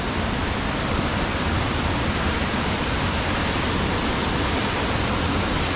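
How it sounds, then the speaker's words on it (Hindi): A hidden waterfall near Sairang, Aizawl pours in a steady, loud, broadband roar that fills the whole stretch without pause, close by and with no voices over it. "हाँ, ये रहा वाटरफॉल।"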